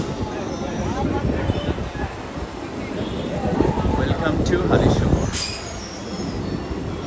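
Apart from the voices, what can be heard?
local train slowing down at junction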